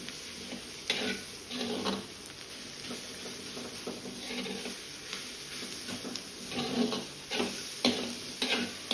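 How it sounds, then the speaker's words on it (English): Ground green chili, ginger and garlic frying in a pan for a gobi masala, a soft steady sizzle with occasional stirring scrapes and light ticks, heard alone without talk. "ground green chili, ginger and garlic. Fry them until raw smell goes away"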